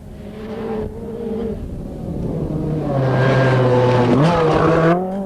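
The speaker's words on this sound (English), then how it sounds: "it's again the white Lancia which bursts into view first" A white Lancia rally car blasts past at speed on a stage of the 1986 Zimbabwe Challenge Rally, its engine rising loud and close with a rising pitch sweep and gear changes, a commentator's voice faintly underneath.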